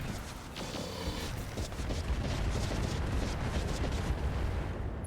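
MRM 40 missile salvo fired in the BattleTech mod RogueTech: a dense, loud rumbling rush of many launches and impacts blending into a continuous roaring barrage.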